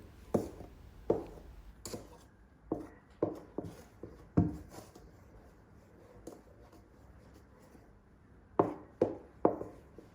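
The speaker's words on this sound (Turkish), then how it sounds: "bir miktar tahta kaşık ile karışımı karıştırıyoruz" Irregular wooden knocks and scrapes sound as a wooden spoon works through a thick semolina dessert mixture in a bowl, quiet between sharper taps.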